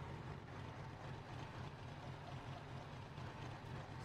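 An old tractor engine idles steadily in Farming Simulator 19, a low, continuous rumble holding even from start to finish with no voices over it.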